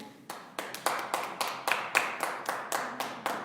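Slow, evenly spaced hand claps, about a dozen sharp strikes roughly every quarter second, from a church congregation applauding during a Spanish-language sermon, fairly quiet with little else beneath them.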